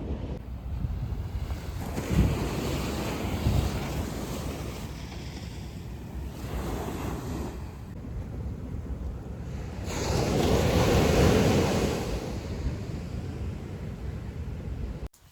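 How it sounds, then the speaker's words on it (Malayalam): Sea waves at a beach, a continuous wash of surf with a swell building around the middle into a louder roar, mixed with wind buffeting the microphone. "നല്ല രസമുണ്ട് ആ ഒരു വെള്ളത്തിൻ്റെ സൗണ്ടൊക്കെ ഇങ്ങനെ കേൾക്കുമ്പോൾ"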